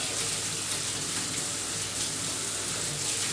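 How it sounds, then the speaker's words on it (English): Steady broadband rush of warm tap water running over cooked pasta to rinse it, continuous and fairly close, with no voices. "So if you just run some warm water over that"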